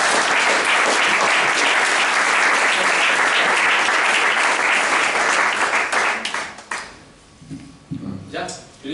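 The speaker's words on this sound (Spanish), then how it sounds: "Un aplauso para Irra." Sustained, loud audience applause at a book presentation fills most of the stretch, then fades into scattered claps and a few voices toward the end.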